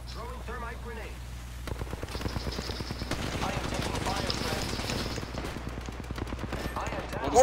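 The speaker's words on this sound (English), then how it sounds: "They're shooting at me." Rapid weapon fire in an Apex Legends match rattles steadily through the clip, dense and mid-distance, with players talking over it.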